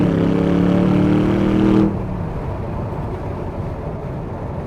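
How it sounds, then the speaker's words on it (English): Morgan GTR with a 4.8 litre V8 and twin rear exit exhausts rumbles loudly with a deep harmonic drone, then drops off abruptly to a quieter low idle-like rumble about two seconds in. "the soundtrack provided by that V8 twin rear exit exhaust pipes"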